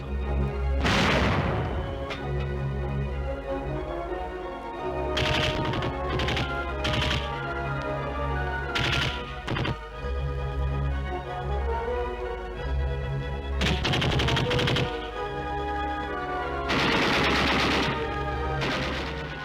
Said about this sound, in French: La pièce de 76 tire un obus fusant, dont l'éclatement, haut dans le ciel, sert de cible au tireur de la mitrailleuse Ehrlichon de 20 mm.